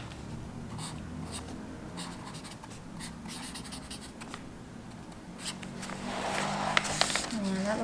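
A purple calligraphy pen scratches across paper in a planner, soft close strokes in short irregular bursts, with quiet handling noise and a louder rustle near the end.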